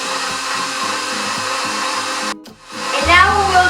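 An electric mixer runs at a low setting through vanilla sponge cake batter with a steady whir, cuts out briefly, then restarts louder with a rising pitch.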